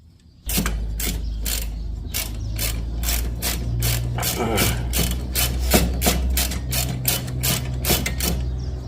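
A ratcheting wrench works the 17 mm hub bolts on an Infiniti M45 during a wheel hub replacement, giving a rapid, even run of close, sharp clicks that keeps going after a short pause at the start.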